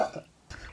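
A single short burp, close and fairly quiet, comes after a brief throaty sound, with a little low rumble trailing off.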